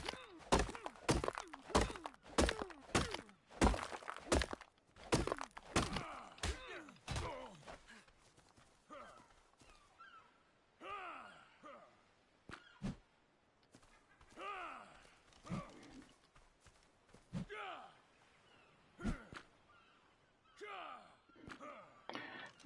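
An axe strikes an NPC hut in the video game Ark Ascended, a long series of hard wooden thunks, rapid and loud at first and then sparser, with scattered softer knocks and rustling between the hits.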